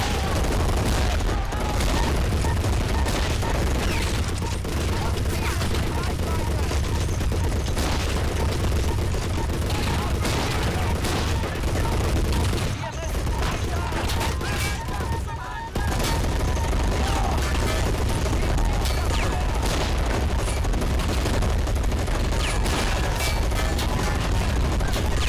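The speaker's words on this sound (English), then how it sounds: "Swivel that MG round to try and put some suppressing fire on them." Machine gun suppressing fire in the Men of War game rattles in dense, continuous bursts mixed with other gunshots and booms, loud and busy across the whole stretch with only brief dips, and no talking.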